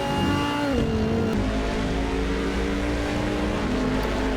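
GT3 race cars in Assetto Corsa roar down the Donington Park straight, a loud continuous engine drone with pitch sweeping through gear changes, several cars blending close together, no talk.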